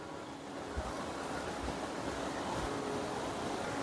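Floodwater rushing in a swollen river during monsoon landslides in Himachal, a continuous loud roaring wash with wind buffeting the microphone, without talk.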